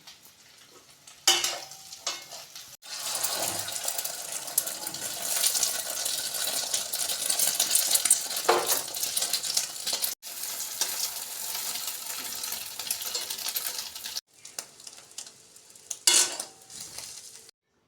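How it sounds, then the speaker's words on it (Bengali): An egg fries in a pan, giving a steady, loud sizzle with occasional utensil clinks and scraping. The frying stops abruptly a few times and then resumes. "এখন ডিমটা ভেজে নিচ্ছি।"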